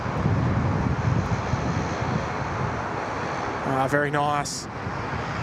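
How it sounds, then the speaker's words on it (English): Airliner takeoff roll at Sydney Airport, a steady broad roar of jet engines and wind that fills the whole stretch, heard from a distance, with someone briefly speaking near the end. "That's a very healthy takeoff roll"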